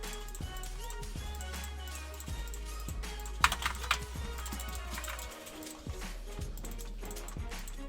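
Rapid mouse and keyboard clicking from fast gameplay clatters in quick, even taps over a low steady hum, with a brief louder flurry midway.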